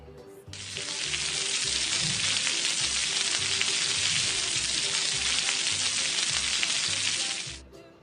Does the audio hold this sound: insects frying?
yes